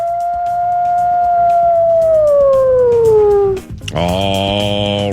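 A long, loud howl glides slowly downward for several seconds. A brief gap follows, then a different bright, harmonic tone begins abruptly.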